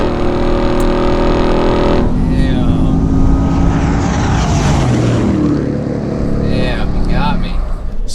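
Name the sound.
Supercharged Hennessey Venom 775 F-150 racing stock Ram TRX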